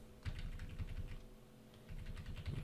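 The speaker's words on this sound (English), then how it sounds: "just hitting the down arrows on the keyboard." Arrow keys on a computer keyboard being pressed repeatedly while positioning an image in Photoshop, a run of soft, close clicks and taps over a low steady background hum.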